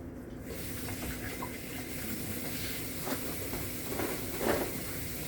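Water runs steadily from a tap into a kitchen sink while fruit is rinsed, a continuous splashing hiss with a few brief clatters and swishes of handling.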